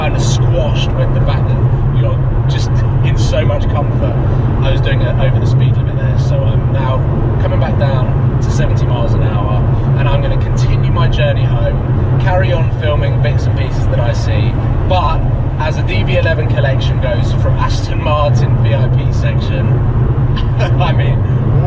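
An Aston Martin 5.2 litre V12 with its exhaust valves open drones steadily and loudly as the car accelerates, a deep continuous engine and exhaust rumble heard from inside the cabin.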